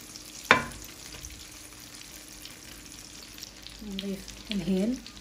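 Pitted dates cooking in melted butter give a faint, low sizzle, with one sharp clack early on and a couple of short, soft stirring or scraping bursts near the end; the sound is close but quiet.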